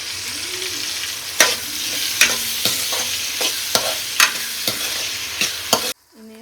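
Onion and tomato frying in a pan, a continuous sizzle broken by regular sharp scraping strokes of a spatula stirring, close and clear, ending abruptly.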